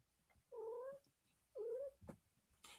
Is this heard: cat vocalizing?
yes